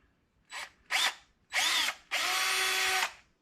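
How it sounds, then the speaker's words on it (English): A power drill bores a 1/4 inch hole into a pilot hole while handguards are fitted on a 2019 Can-Am Outlander. Two short whirring bursts, then two longer close, loud runs, with no talking. "I got my pilot hole drilled, and now I just go in here with the 1/4 inch"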